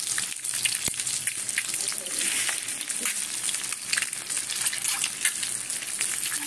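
Egg frying in oil seasoned with turmeric and salt, for an egg paturi, gives a steady close sizzle with a crackling hiss that keeps going the whole time.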